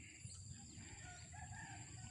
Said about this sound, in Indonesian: Aneka suara burung ini terdengar ya, adalah burung hutan.